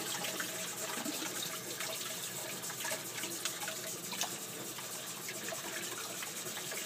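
Tap water runs steadily into a sink while a bantam Polish chicken is washed for a show, a constant close splashing stream with small drips and gushes and no talking.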